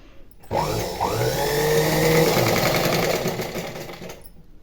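A sewing machine runs steadily for about four seconds, stitching a folded fabric edge to make thread piping with a normal presser foot, close and fairly loud, no talk.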